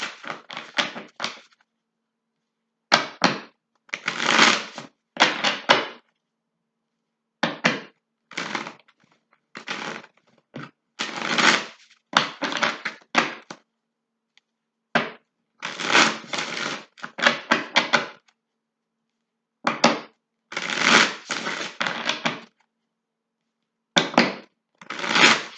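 Tarot cards shuffle in repeated short bursts of riffling and flicking, close and crisp, separated by brief silences.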